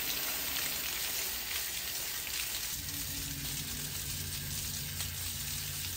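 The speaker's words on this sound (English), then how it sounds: "we're gonna start rinsing this from the inside, and you'll notice it pushing this debris out" Water spray rinses packed debris outward from the inside of air-conditioner coils, a steady close hiss of rushing water with a low rumble building beneath it partway through.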